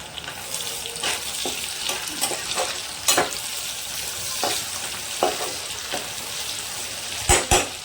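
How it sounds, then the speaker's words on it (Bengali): Chopped tomatoes go into a hot frying pan for papaya moong dal, giving a steady sizzle with scattered stirring clinks and a few sharper knocks near the end, close and without talk. "এর মধ্যে দিয়ে দেবো আমি কুচিয়ে রাখা টমেটো।"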